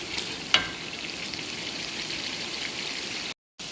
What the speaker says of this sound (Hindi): इसके बाद देखिए ये भुनाई हो रही है हमारी।